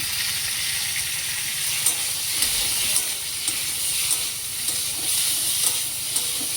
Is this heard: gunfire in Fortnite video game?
no